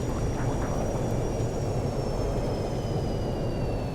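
Airliner jet engines spooling up for takeoff on runway one right at San Francisco International in the X-Plane 11 flight simulator, a steady broadband roar with a faint high whine drifting slowly downward.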